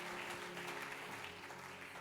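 Church congregation clapping in applause during a worship service, a steady dense wash of many hands sustained throughout without pause.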